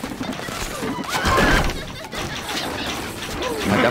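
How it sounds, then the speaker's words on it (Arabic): Horse whinnies and hoofbeats from the medieval strategy video game Stronghold Crusader, with a neigh rising near the middle over clattering game effects and mechanical clicks, loud and close. "الفرس تعدو."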